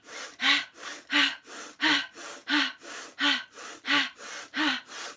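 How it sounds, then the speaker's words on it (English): Rhythmic, forceful breaths pulsing in a steady beat during a short yoga session in bed, about a dozen sharp exhales alternating in strength, close and alone with no talking. "I'm moving it with the shoulder, almost making some beats with my breath and my shoulders"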